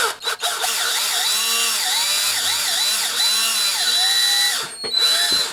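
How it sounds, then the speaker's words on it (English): A power drill boring a hole for a tricopter yaw mechanism whines loudly and steadily for about five seconds, its pitch wavering in repeated swells, then cuts off with a couple of clicks. "Now, just going to take the drill, try to get a nice perpendicular angle on it."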